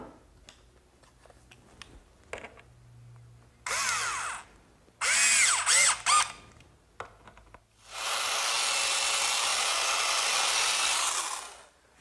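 A power drill or driver sets screws fastening wooden cleats to rails in a woodworking shop, in several short bursts with pauses between, then one long steady run, loud and close.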